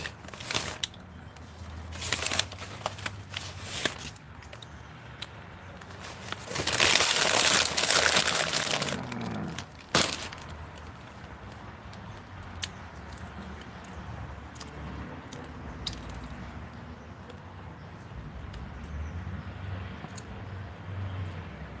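Paper wrapping around fries and a pile of napkins crinkles and rustles close by, with a loud burst of crumpling partway through and quieter handling and chewing sounds after.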